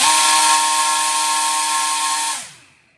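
A small RC electric motor spins a Master Airscrew 6-inch three-bladed fixed propeller at high RPM, making a loud, close, steady high-pitched whine that winds down quickly near the end.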